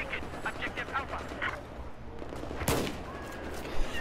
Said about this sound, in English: Ah, shotgun for the win.